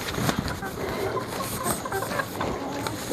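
Backyard hens cluck as feed is scattered for them, a busy, close cluster of short clucks and scratchy movement that continues throughout.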